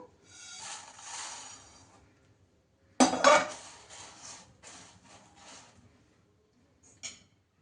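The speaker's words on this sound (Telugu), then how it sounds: "ఇప్పుడు ఈ ధనియాలు వేసిన ప్లేట్లకి ఇవి కూడా వేసేద్దాము" Roasted spices pour onto a plate already holding coriander seeds while making homemade rasam powder: a soft rattling spill, a pause, then a sharper clattering pour with small scattered bits and one last brief clink.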